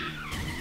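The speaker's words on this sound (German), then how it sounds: "Ich höre nur noch Reifen." Tires squealing and skidding in the Need for Speed Rivals racing game, a brief continuous screech over engine roar, loud and close, with no voices.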